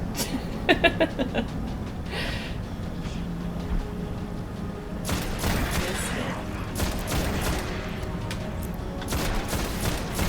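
Gunfire in the video game Destiny, a dense fusillade of rapid shots and clattering bursts over a constant low background rumble, loud and sustained through most of the stretch.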